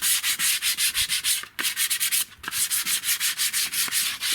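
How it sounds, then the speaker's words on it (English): Light hand sanding of rust on a metal garden chair produces a quick, regular back-and-forth scratching rhythm, close and steady, with two brief pauses partway through. "So give it a light rub."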